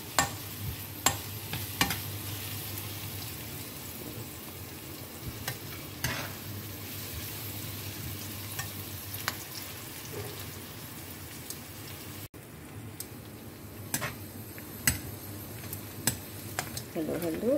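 Garlic sizzles in a pan while a utensil stirs it, making intermittent scraping clicks over a constant crackle. A voice speaks quietly at times.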